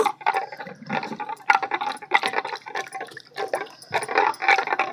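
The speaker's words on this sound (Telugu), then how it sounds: "ఇప్పుడు ఈ బౌల్లో తీసుకున్న దాంట్లో ఇప్పుడు నీళ్లు పోసేసానండి" Water poured into a bowl of food mixture in a home kitchen, heard as short irregular splashing and trickling bursts, fairly close and quiet.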